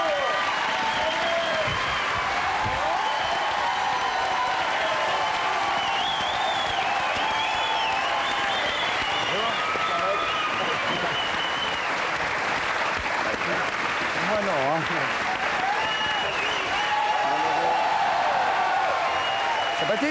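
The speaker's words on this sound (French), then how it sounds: "Sous vos applaudissements" A television studio audience claps loudly and continuously, dense sustained applause with some cheering during a French live variety show on CANAL+ Nulle Part Ailleurs, with a voice speaking over it.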